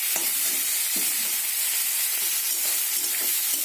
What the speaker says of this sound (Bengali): সাদা তেলে চিংড়ি মাছটা ভেজেছি